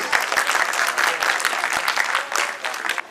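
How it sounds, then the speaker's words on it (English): An audience at a school annual function claps loudly and steadily, with dense overlapping hand claps close by for a few seconds before fading slightly. "Give them a big hand of applause."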